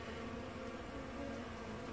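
Honeybees buzzing during removal from inside a mobile home, a faint, steady, continuous drone of many bees with no talk.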